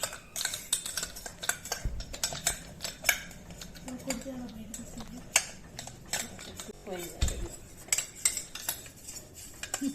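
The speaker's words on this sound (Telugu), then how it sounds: "సో ఇది కూడా ప్రాపర్గా మిక్స్ అయ్యేలాగా మొత్తం కలుపుకోవాలన్నమాట." A spoon stirs and scrapes through a seasoned mango pickle mixture in a bowl, with irregular clinks and soft scraping strokes continuing close by for the whole stretch.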